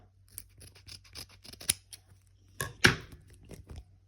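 Crinkly rustling and tearing of a small paper packet being opened close up, a series of quick crisp crackles ending in a sharper rip.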